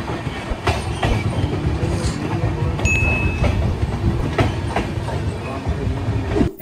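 The 12343 Darjeeling Mail train runs steadily on rails between Sealdah and Bolpur Shantiniketan, heard from onboard as a continuous low rumble with rhythmic clickety-clack of wheels over rail joints and a faint brief squeal.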